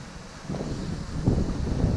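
Gusty wind of about 10 to 15 mph buffets the microphone during a first DJI Mavic drone flight over a neighborhood. Low, rumbling bursts rise and fall over two seconds with no talking.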